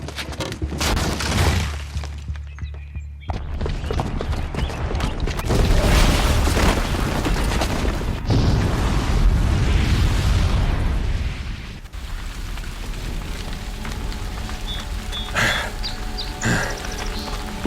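A bomb goes off in Horizon Zero Dawn: a heavy, sustained roar of blast and rumble with rolling debris and crackle, loud and close, slowly thinning into lingering noise.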